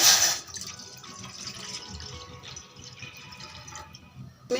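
Water poured from a glass into a pan on a gas stove, a brief splashing gush at the start followed by quieter trickling and dripping, close and fairly soft, with a short splash again at the end.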